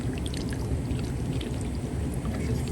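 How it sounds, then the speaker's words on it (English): A gallon of bleach solution is poured into a funnel to flush an air-conditioner condensate drain line, giving a steady, continuous liquid rush up close with no break. "So we're just going to do that by just pouring this gallon"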